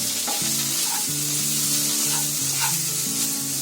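Potato filling for a crispy fasting masala dosa, seasoned with fasting salt, coconut and coriander, is stirred while frying in a pan: a steady close sizzle with repeated scraping strokes of the spoon over a low, shifting tonal hum, with no talking.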